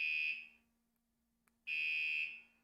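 An alarm horn sounds in two loud, shrill electronic blasts separated by a short silence, each a steady piercing tone close to the listener.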